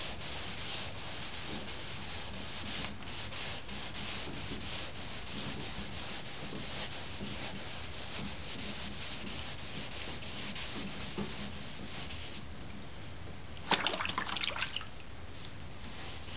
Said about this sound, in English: To make sure that the sandpaper is hitting